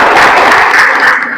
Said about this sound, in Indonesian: Tepuk tangan dulu buat Mas Adit, guys.